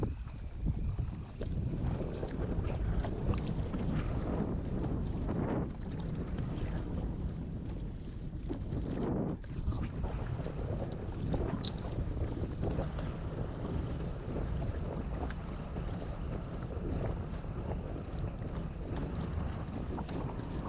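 Strong wind buffets the microphone on open water during a summer redfish fishing trip from a boat, a loud, continuous broadband roar with gusting swells and occasional water and hull noise, no clear speech.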